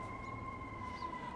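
A siren on a New York City street holds a thin steady tone over a rumbling low city background, faint and distant.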